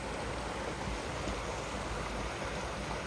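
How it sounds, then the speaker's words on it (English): A small waterfall on a swollen woodland creek rushes steadily, a continuous broadband splashing wash with no pauses, moderately close. "There's kind of a waterfall right there."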